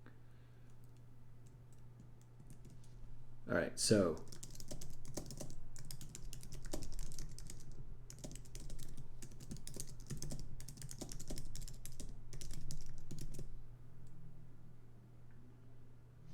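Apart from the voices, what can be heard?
typing on a computer keyboard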